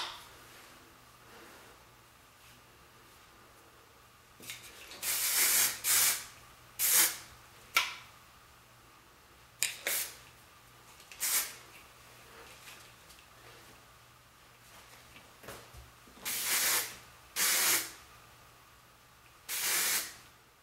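Hair spray hisses onto curls in a string of short bursts, each about a second long with gaps between them, close and fairly loud in an otherwise quiet room.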